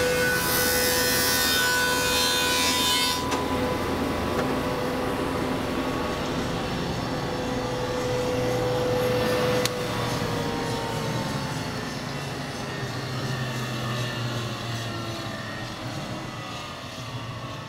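A thickness planer feeds a wooden board through with a loud, sustained mechanical whine and roar whose pitch shifts slightly as the board passes, the motor running on steadily after a brief sharp change partway.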